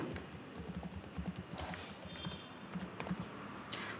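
Soft, quick clicking of typing on a computer keyboard, irregular keystrokes in short runs with a few louder taps, close and quiet with no talk.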